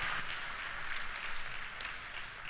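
A church congregation at Middlesex United Methodist Church gives Jan a round of applause, steady crowd clapping heard faintly and from a distance, with no voices over it.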